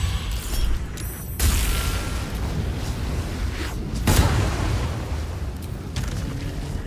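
A booming explosion from the video game Baldur's Gate III, a loud, dense rumble that fills the whole stretch with sharper bursts near the start and midway, with no talking.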